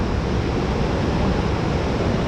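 Fast-moving creek water running high after a rise, a steady, loud, broadband rushing roar close to the microphone with no pauses and no voices.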